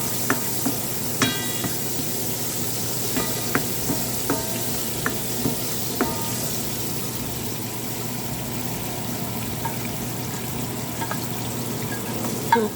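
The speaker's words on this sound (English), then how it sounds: "I'm adding half an onion." Onion frying in hot oil with fish oil for a Guyanese snook fish curry, a steady close sizzle with small sharp pops and occasional stirring clicks throughout.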